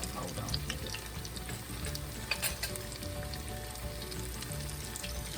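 Potato fritters frying in hot grease in an iron skillet, a loud dense crackling sizzle throughout with small pops and a brief scrape of a spatula.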